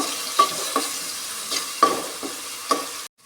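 Crushed garlic, ginger paste and slit green chilies sizzle in a pan on a low flame while a spoon stirs in about five evenly spaced scrapes, close and clear, before the sound cuts off abruptly.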